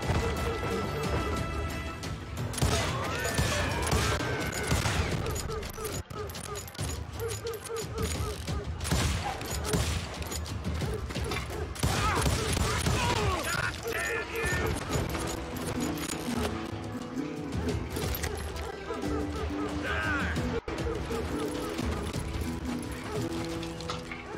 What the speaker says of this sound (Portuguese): Eu tô vendo o tiro vindo meio que de cima, né?